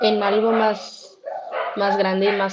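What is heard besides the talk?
No distinct noise like a dog, phone or traffic.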